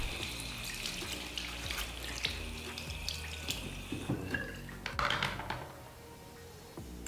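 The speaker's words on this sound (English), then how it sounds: "I'll thoroughly clean off in some fresh water and we're ready to remove the toner." Running water rinses a printed circuit board under a tap, a steady trickling splash with a few small clicks and knocks as the board is handled, fairly quiet and without speech.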